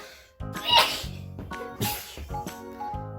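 A sharp sneeze bursts out over a quiet indoor background, followed by a second sneeze-like burst and some soft rustling.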